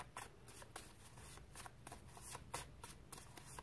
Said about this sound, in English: These cards don't shuffle well.